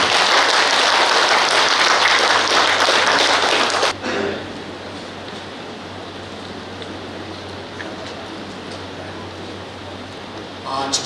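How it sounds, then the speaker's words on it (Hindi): Loud audience applause at a government launch event, dense clapping for about four seconds that cuts off abruptly, followed by quiet room noise with faint scattered claps. "सभी को मैं जोरदार तालियां दे सकती हूँ।"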